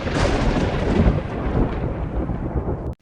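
Thunder from a lightning strike crashes and rumbles loudly for about three seconds, broad and booming, then cuts off abruptly.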